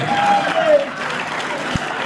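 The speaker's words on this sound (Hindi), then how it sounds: "चलो जोरदार ताली बजा दीजिए।" An audience claps at a Hindi comic poetry gathering, a sustained wash of applause in a hall with a voice speaking over it.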